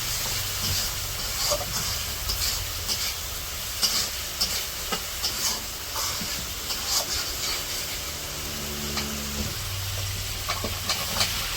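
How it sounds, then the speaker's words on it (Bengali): Taki fish sizzle and fry in spice paste over a village cooking fire, a constant close hiss broken by occasional stirring clinks and scrapes. "মশলার মধ্যে মাছগুলো দিয়ে দিল মাছগুলো ভালো করে কষে নেব"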